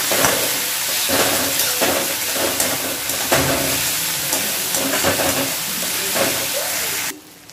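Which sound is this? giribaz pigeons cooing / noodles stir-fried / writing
noodles stir-fried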